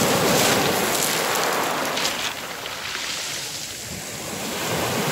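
Sea waves wash over a pebble beach on the Turkish coast, a steady broadband surf roar with gentle swells in loudness, close to the microphone and free of talk.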